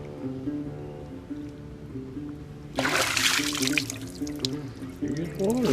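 Water poured into a canteen made from black snake skin: a sudden splashing gurgle breaks in midway and continues with trickling, over a background of sustained musical tones.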